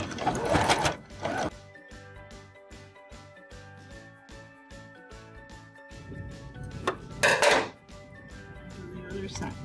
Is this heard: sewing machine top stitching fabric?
yes